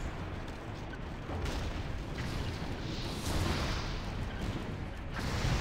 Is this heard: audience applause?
no